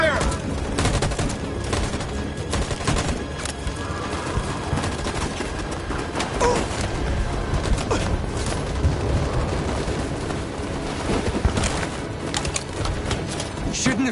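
A firing squad opens fire in Detroit: Become Human, dense gunfire layered under a continuous roar of chaotic game sound and music, with shouted voices running through it.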